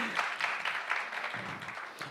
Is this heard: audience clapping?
yes